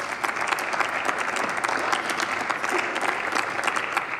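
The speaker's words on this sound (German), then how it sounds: "Applaus" Audience applause after a speech in a parliamentary chamber: steady, dense clapping from a large crowd throughout, fairly loud and close, with no talking over it.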